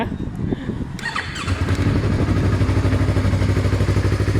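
A Yamaha YZF-R3 sport motorcycle engine cranks briefly and fires up, settling into a loud, steady, throbbing idle close by.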